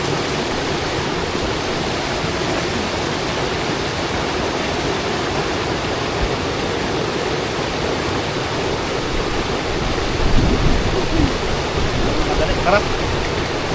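Water runs steadily from a faucet, a constant hissing rush that continues throughout and grows slightly louder near the end.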